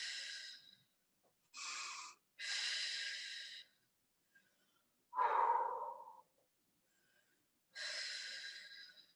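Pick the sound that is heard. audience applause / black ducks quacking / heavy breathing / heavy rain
heavy breathing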